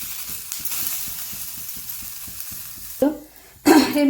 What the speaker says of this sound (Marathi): दोडका आपला हा भाजलेला आहे. आपण आता हा काढून घेत आहोत.